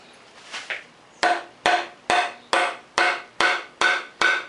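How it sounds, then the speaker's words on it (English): A wooden mallet taps a tenon into its mortise to test the fit: after a couple of faint knocks, seven sharp, evenly spaced blows ring out close by, each with a short woody decay. "Let me take a mallet and test that"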